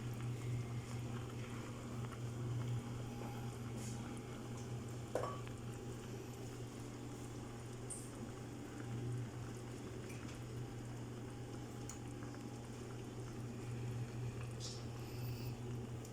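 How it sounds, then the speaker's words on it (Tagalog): Beef and cabbage soup (nilagang baka) boiling in a pot, a faint steady bubbling with a low hum in the background and an occasional soft clink. "Pakulin lang po natin yan para maluto yung konti ng repolyo natin."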